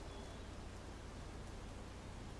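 Steady rain in the video game Mafia 2, a faint, even wash of hissing noise with no distinct drops or voices.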